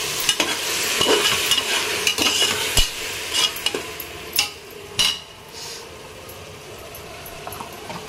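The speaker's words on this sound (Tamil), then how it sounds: "தக்காளி நல்லா வதங்கட்டும்." Ground tomato paste with ginger-garlic paste sautéing in a pot for biryani, with a constant sizzle under repeated scraping strokes of a spoon against the metal pan, close up and without talk.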